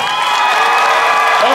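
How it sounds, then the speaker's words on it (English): Audience at a dance competition applauds and cheers, a dense, steady wash of clapping with whoops and crowd noise sustained loudly throughout. "can I get a warm round of applause for"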